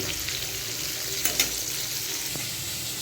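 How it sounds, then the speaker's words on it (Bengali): Pointed gourd (potol) pieces frying in a pan, a soft continuous sizzle with a couple of brief stirring clinks, quiet and close with no talk. "পটলগুলো ভেজে নিচ্ছি হয়নি এখনো আরও ভাজা হবে আর একটু"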